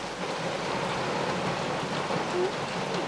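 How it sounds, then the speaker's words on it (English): Heavy rain falls outside, a dense steady hiss of drops on surfaces heard from indoors, constant and fairly loud throughout. "it's raining pretty hard"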